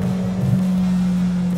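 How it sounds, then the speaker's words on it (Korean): Steady low drone of a McLaren GT mid-engine supercar cruising on the road, heard from inside the cabin as a constant engine hum with road noise, no talk. "바로 지금 시승하고 있는 GT 모델이에요."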